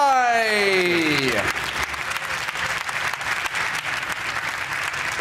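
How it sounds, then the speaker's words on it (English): A large audience bursts into a sustained round of applause for Joe Buckeye at a Ford Focus RS event in the Cologne plant, dense clapping and crowd noise continuing steadily after a fading musical sweep. "Please give a massive round of applause, Joe Buckeye!"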